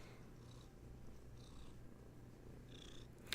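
A kitten purrs softly and steadily as a low continuous rumble throughout, faint and close, with a brief sharper sound near the end.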